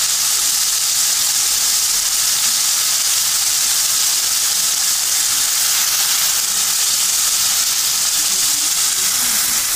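Ginger garlic paste sizzles steadily in a frying pan over browned fried onions while cooking muri ghonto, a loud, even hiss with no talk.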